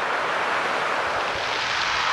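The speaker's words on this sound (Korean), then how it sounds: "파도 소리와 몽돌 구르는 소리를 함께 들으며" Waves roll rounded mongdol pebbles on a Geoje Island beach, a dense, steady wash of surf with constant hissing and rumbling, fairly loud and without voices.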